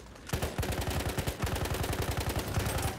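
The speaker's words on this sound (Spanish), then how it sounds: "Este tiene más cadencia de disparo, por lo que pegamos tiros a diestra y siniestra." Rapid automatic fire from a Hellriegel submachine gun in the video game Battlefield 1, a fast, evenly spaced stream of loud shots that starts abruptly, breaks briefly, then continues in a sustained burst.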